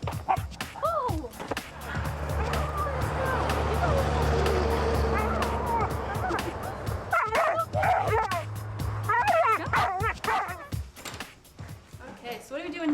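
Dogs out on a walk around a building bark, yip and whimper in sharp, close bursts over a low rumble of passing traffic. People talk in between the barks.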